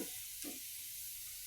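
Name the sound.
onions frying in a pan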